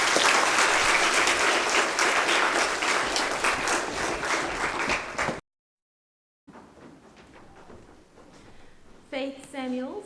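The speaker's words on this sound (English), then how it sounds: "You now give them a round of applause." Audience applause at a Grade 5 school prize-giving ceremony: dense, loud clapping from a crowd runs for about five seconds, then stops abruptly, followed by quieter room noise and a brief voice.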